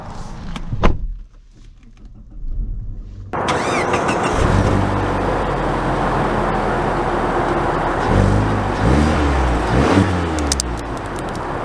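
A 2024 Mazda 3 Turbo: a door thuds shut, then the engine starts and settles into a steady hum as the car pulls away, with rising revs near the end; close, no talking.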